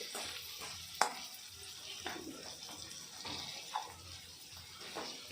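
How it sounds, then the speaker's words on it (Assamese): Boiled potatoes cut into large chunks fry in a pan with spices, giving a quiet sizzle broken by occasional clinks and stirring scrapes, and a faint voice can be heard underneath. "বনাই দি এইবাৰ এনেই আছোঁ, ভাজি আছোঁ। ভাজা হৈ আছে।"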